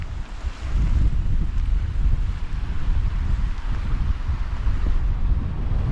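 A river flowing beside a Northumberland car park, a steady broad rush of water heavily mixed with gusting wind buffeting the microphone, continuous and fairly loud with no voices.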